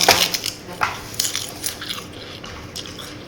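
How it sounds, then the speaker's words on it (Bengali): Fried papad is bitten and chewed close to the microphone, with several sharp crisp crunches followed by softer chewing. "তারপরে একটু পাঁপড়।"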